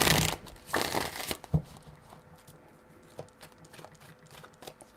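Tarot cards being shuffled by hand in a few quick riffling bursts up close, trailing off into softer handling rustles and taps.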